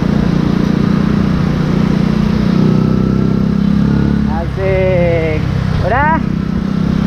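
A Honda Little Cub motorcycle engine drones steadily while riding, a loud low-pitched putter close by, with its pitch rising and falling through gear changes near the end as a rider speaks briefly over it.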